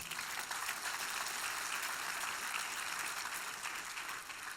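Steady applause from a church congregation during a sermon by a pastor, a dense even wash of clapping that holds at one level throughout, fairly distant and without clear voices.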